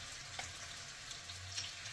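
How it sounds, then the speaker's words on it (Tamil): Chicken fries in a pan for butter chicken, with a faint, steady sizzle and light crackle continuing throughout and no voices. "இதை ஃப்ரை பண்ணி எடுத்துக்கலாம்."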